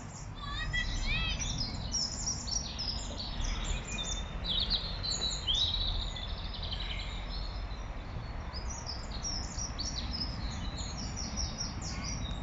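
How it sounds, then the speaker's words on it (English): Lots of birds sing and chirp in the trees on Bidston Hill, their bright calls overlapping steadily at moderate distance above a constant low outdoor rumble. "Lively birds today to finish our walk."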